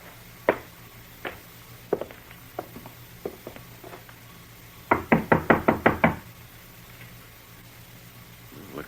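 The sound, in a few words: knocking on a door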